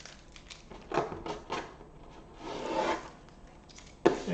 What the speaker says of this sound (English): Let me take the tape off I have around the edge.